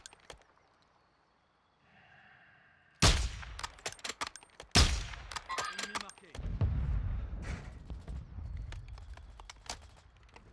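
Gunfire in the video game Warzone: after a quiet opening, sharp close shots crack out in quick bursts, followed by more scattered rapid fire and a rumbling low-end wash, with players talking intermittently.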